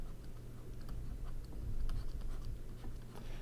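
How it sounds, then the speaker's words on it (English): A marker draws a small diamond on a lecture board, giving faint scratchy strokes and light taps scattered over a quiet background hum, with no talking. "I'll draw a little diamond here"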